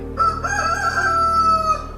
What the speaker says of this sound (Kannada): ಬೆಳಿಗ್ಗೆ ಕೋಳಿ ಕೂಗಿದ ತಕ್ಷಣ